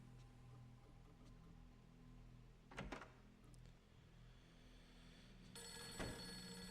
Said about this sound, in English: I think we answer the phone and we segue right into the nighttime.